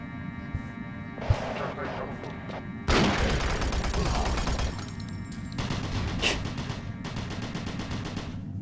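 Gunfire in the video game DOOM 3, a sharp shot followed by a sudden loud burst that becomes a sustained barrage, fading and then flaring again with crackling impacts.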